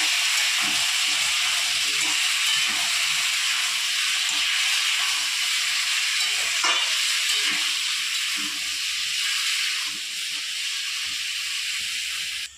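Potato and pumpkin pieces hitting a hot oiled pan set off a loud, steady frying hiss that holds for several seconds, with faint scraping underneath before it eases slightly near the end.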